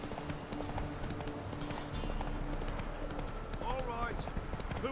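Roach the horse gallops in The Witcher 3, a steady rhythmic clip-clop of hooves running throughout alongside game ambience, with a voice speaking over it.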